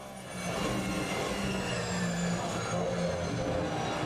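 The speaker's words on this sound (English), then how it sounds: "Have you heard the engine? He's really using a feather on that throttle now" Porsche Cup GT3 race car engine in a sim racing game at Misano, a steady droning roar with a whining tone held at fairly constant revs under light throttle, continuous and close throughout.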